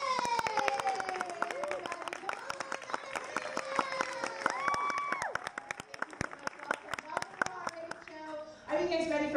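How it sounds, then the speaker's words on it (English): A live audience at the Universal Studios Horror Makeup Show applauds and cheers for the show's host, with dense, sustained clapping and excited voices, including children's, across the crowd. "how about a nice round of applause for the host of today's show, Alex Ross?"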